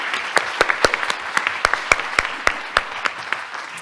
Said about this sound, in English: So let's give one more round of applause for Catherine.